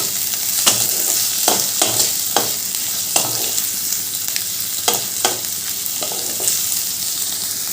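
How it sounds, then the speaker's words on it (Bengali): Onion and crushed garlic fry loudly in a pan, a dense steady sizzle punctuated by repeated spatula scrapes and taps at an uneven rhythm, heard up close with no voices. "এবার পেঁয়াজ রসুনটা ভালো করে ভেজে নেব"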